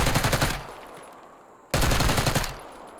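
Automatic gunfire in the video game Black Ops 6, two loud rapid bursts of shots separated by a brief lull with lingering echo, close and dominant, no speech.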